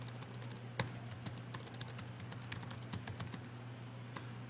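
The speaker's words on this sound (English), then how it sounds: "Having a hard time typing today." Keys clatter on a computer keyboard in steady, irregular bursts of close, crisp clicks, with one louder keystroke near the start and a constant low hum underneath.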